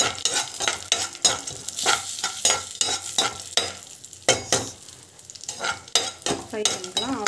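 Cashews and raisins fry in ghee, sizzling steadily while a spoon stirs and scrapes the pan in repeated strokes up close, and no one talks.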